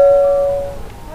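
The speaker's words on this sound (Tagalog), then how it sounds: "Doorbell." A single doorbell tone rings out clearly and loudly at a residence, one sustained chime that slowly fades away over about a second, with no voices.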